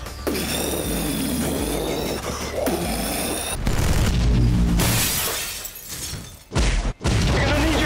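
Action-film explosions from Total Recall, a loud sustained barrage of booms, crashing debris and shattering, layered with score, building to heavy rumbling blasts near the end.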